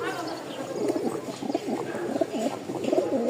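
A Rajshahi Giribaz flying pigeon coos in a coop, a run of rolling, throaty calls repeated close by, with a voice partly over them.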